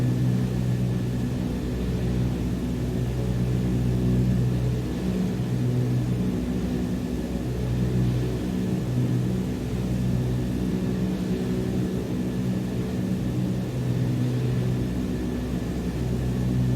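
Steady, droning aircraft engine with throttle applied in Microsoft Flight Simulator 2020, a continuous low rumble with a faint tonal whine, unchanging and alone for the whole stretch.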